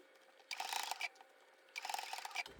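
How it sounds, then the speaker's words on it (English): Sewing machine stitching around the edge of a doll sleep sack, two short bursts of quiet rapid mechanical chatter separated by a brief pause. "so now I'm just gonna stitch it around"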